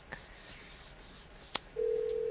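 Phone dialing a call inside a Roblox game: a few quick clicks and taps, then a steady, sustained electronic tone takes over near the end, fairly loud and alone with no talking.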